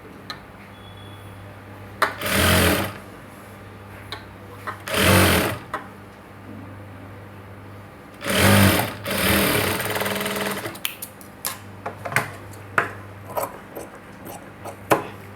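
A sewing machine stitches blouse fabric in three loud bursts of rapid, close-up stitching, with quiet pauses between them. A few short single taps and clicks follow near the end.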